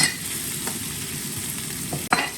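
Ingredients stir-fried in hot oil in a pan to render out a little fat, giving a steady close sizzle with a brief scrape of the spatula near the end.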